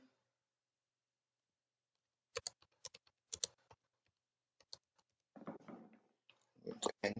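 Soft, sparse clicks come from a computer keyboard as a password is typed, in scattered keystrokes and short quick clusters heard close up in a quiet room.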